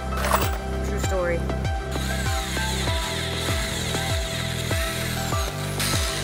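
A power drill drives screws into wood while a rabbit hutch is built, its motor whirring in repeated short bursts that rise and fall in pitch, up close and loud, with a voice partly audible among the bursts.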